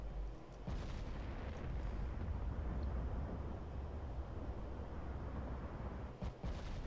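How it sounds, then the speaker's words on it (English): Incoming naval shell fire in Ultimate Admiral: Dreadnoughts, heard as a sustained low rumbling roar of distant artillery with a heavier boom near the start and another near the end. "Shots are coming in on us"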